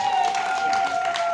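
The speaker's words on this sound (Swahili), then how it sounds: "Mpigeni Mungu makofi." Audience applause at a church members' celebration ceremony, a steady wash of clapping alongside a sustained ringing tone, fairly loud and continuous through the short moment.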